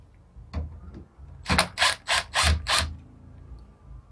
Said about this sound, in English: I'm going to remove the 2 screws on the outside.